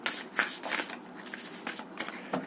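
Tarot cards are shuffled by hand in a quick run of riffling, flicking bursts over a couple of seconds, close and clear with no talk.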